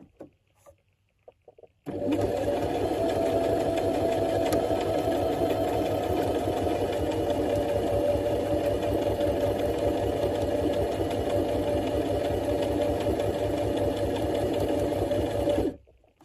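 A sewing machine stitches a buttonhole in one steady, unbroken run of about fourteen seconds, a close, even mechanical whir with no talking.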